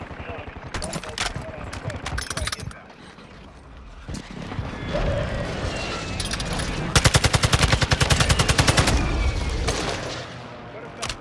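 Rapid video game gunfire crackles in bursts throughout, with a dense, loud automatic volley near the end, while players talk over it.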